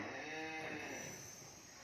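Cattle at a crowded cattle farm lowing in one long, loud, close moo that fills the short stretch with steady sound, no talk.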